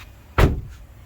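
A newly fitted replacement door on a police-impounded car that sat for five years is shut once, a single close, heavy thud that fades quickly, with no talking.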